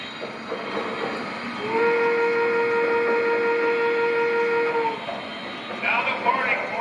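A model K4 locomotive, number 3768, in Loewy modernization styling, pulling matching modernization cars, sounds one steady horn blast of about three seconds over a low running rumble, then the rumble goes on alone.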